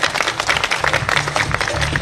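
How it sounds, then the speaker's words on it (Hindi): An audience at a glass workshop class gives a guest a welcoming round of applause, a steady dense clatter of many hands clapping throughout, with faint voices mixed in. "मैं ऑडियंस से चाहूंगा एक जोरदार तालियों से स्वागत करें सर का।"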